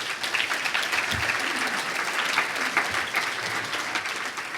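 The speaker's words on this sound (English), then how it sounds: "So let me give a round of applause for that simple fact." Audience members at a business leadership event give a sustained round of applause. Dense clapping from many hands holds steady and fairly even throughout, heard from a moderate distance.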